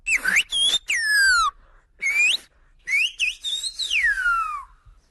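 A run of Silbo Gomero language whistles, the Canary Islands whistled speech, sent across mountain terrain. Several clear, sliding, high-pitched phrases come in quick bursts with short gaps, loud and alone, with faint lingering tails.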